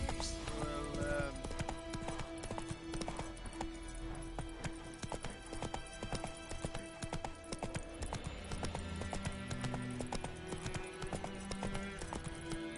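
Roach the horse gallops in The Witcher: Wild Hunt, a steady run of hoof clip-clops carrying across the whole stretch beneath game music, with a brief voice near the start.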